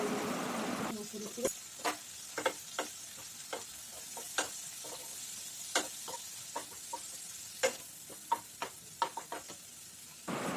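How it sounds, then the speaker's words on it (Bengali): Spices and a little water cooking in a pan for Bengali khichdi, with ginger, cumin powder and turmeric: a soft steady sizzle punctuated by repeated clicks and scrapes of a spoon stirring against the pan. "এর মধ্যে সামান্য জল দিয়ে দেব আর দেব এক চামচ ভর্তি জিরে গুঁড়ো আর পরিমাণ মতো হলুদ"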